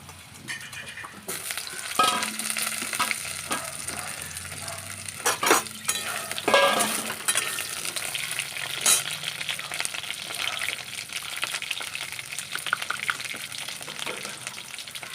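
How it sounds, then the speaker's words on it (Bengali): Potatoes fry in hot oil for a katla fish curry, giving a steady close sizzle that continues throughout, with a few brief stirring and utensil scrapes early on and no talk. "আলুগুলো ছেড়ে দিচ্ছি।"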